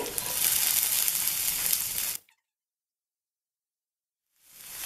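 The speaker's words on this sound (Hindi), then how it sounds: "अब हम इसमें प्याज डालेंगे" Onions dropped into hot oil for veg Manchurian gravy, a loud dense sizzle for about two seconds that cuts off into silence before a softer sizzle returns at the end.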